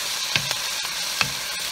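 Onion and apple frying in hot olive oil in a pan over high heat, giving a steady close sizzle with occasional small pops and stirring scrapes.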